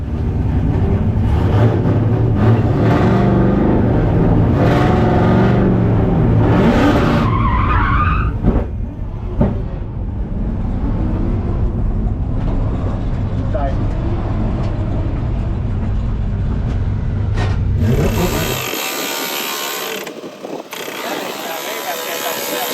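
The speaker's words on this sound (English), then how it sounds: "we're just warming the car up right now" A race car warming up at an LZ World Tour drifting event in Canada, its engine roaring loud and close with revs rising and falling for about eighteen seconds, then cutting off, leaving a thin high hiss.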